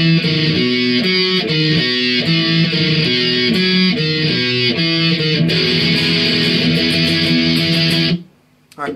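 A distorted electric guitar plays a verse riff, a steady driving run of chugging chords and shifting notes, loud and dense, stopping abruptly near the end.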